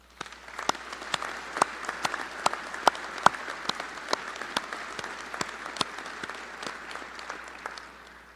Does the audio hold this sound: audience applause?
yes